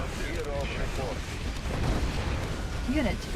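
Continuous booming artillery and gunfire from the strategy game Red Alert 2, a dense rumbling barrage with scattered blasts, overlaid by someone speaking and brief game voice lines.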